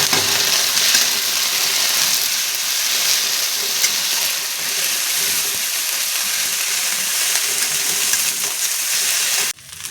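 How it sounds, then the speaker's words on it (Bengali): Ginger and chilli paste sizzling hard in hot oil with spices for a crab curry, a loud continuous close-up crackle that cuts off abruptly at the end. "তো এখন আমি আদা আর কাঁচা শুকনো লঙ্কাটা বাটা দিয়ে দেবো। দিয়ে সুন্দর করে মশলাটা কষিয়ে নেব।"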